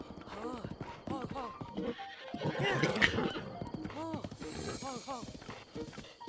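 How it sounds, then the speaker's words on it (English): Horse in the video game Breath of the Wild whinnying and snorting amid clip-clopping hooves, with someone talking over it and game music in the background. "It's a very temperamental horse."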